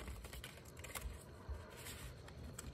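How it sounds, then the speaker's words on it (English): Tarot cards being shuffled by hand, a faint, quick run of soft riffling and flicking clicks, close and steady, with no voice. "Some shuffling first."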